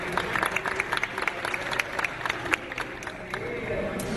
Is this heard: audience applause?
yes